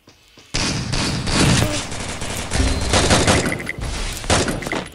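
Rapid automatic gunfire from an AN94 rifle in the Free Fire video game, loud continuous bursts of fast shots starting abruptly and running for several seconds with brief gaps.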